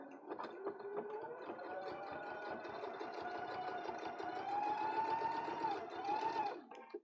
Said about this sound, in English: And we're going to sew down.